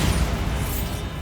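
A spell explosion going off in the video game Hogwarts Legacy: a loud, dense, low rumbling blast that fills the clip with steady boom and crackle, sustained throughout without pause and without talk.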